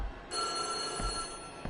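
An old telephone bell rings in the White Day video game, a steady, bright metallic trill that starts abruptly and holds, moderately loud, with no voices.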